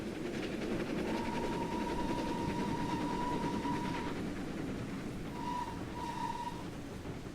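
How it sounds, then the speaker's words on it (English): A train whistle in Train Simulator 2015 sounds one long sustained blast, then two shorter toots, over a steady loud rumble of rolling wheels and engine noise. "That's what the whistle sounds like."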